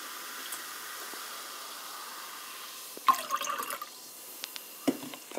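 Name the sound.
pouring sparkling water into cup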